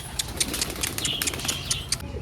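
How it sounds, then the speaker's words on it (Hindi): Pigeons flapping their wings close by outdoors, a rapid fluttering beat with a steady background rumble, no voices. "कबूतर आ गए हैं बाहर"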